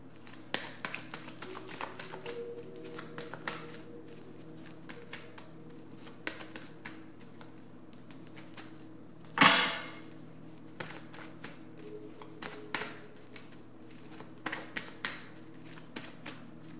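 Tarot cards shuffled by hand in a quiet room: soft riffling and tapping of the deck with one sharper snap or bridge partway through, then scattered light taps and card flicks, close and fairly faint with a low steady hum underneath.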